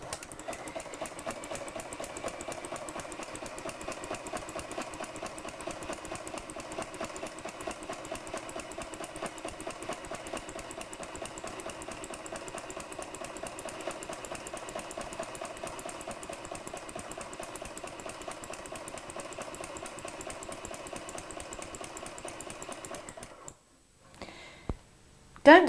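A Hague linker machine runs steadily, linking knitted yarn into chain stitches with a continuous mechanical whirring and fine ticking rhythm, moderately loud and close, stopping abruptly near the end.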